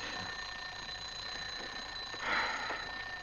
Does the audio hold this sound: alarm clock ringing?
yes